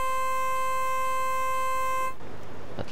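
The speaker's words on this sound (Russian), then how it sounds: "мне немножко не очень нравится здесь гудок, но он такой более игрушечный" A train horn in Train Simulator 2015's Game of Gnomes, a toy-like tone, sounds as one steady, clear sustained blast for about two seconds, then cuts off abruptly into quiet background noise.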